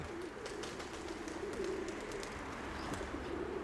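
Soft, low pigeon cooing repeats throughout over steady outdoor background noise, with faint rustling and occasional higher clicks.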